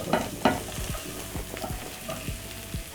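Onions and green capsicum are stir-fried in a pan for a sausage and rice dish, with a soft sizzle and a quick series of spatula scrapes and taps. No one speaks.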